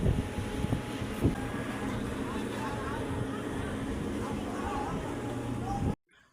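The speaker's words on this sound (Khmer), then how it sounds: "ខ្យល់បងប្អូនអើយខ្យល់ត្រជាក់" Cold early-morning wind buffeting a microphone aboard a boat, a constant rough rumble with a low engine-like drone underneath, and a voice talking over it before everything cuts off abruptly near the end.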